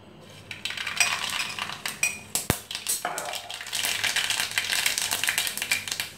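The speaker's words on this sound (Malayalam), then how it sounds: "കടുക് ഇട്ട് കൊടുക്കാം" Mustard seeds dropped into a hot clay pot for Kerala-style prawn curry set off a busy run of sharp crackles, ticks and pops, with one loud clink, all close up and with no voices.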